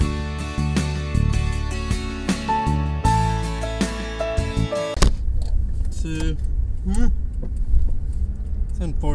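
A car being driven on the road, its steady engine and road noise running beneath loud music throughout, with the music dropping back partway so the rumble and a few knocks come through more clearly.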